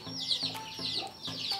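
A backyard rooster clucks in a short series of quick, moderately close calls with no talk.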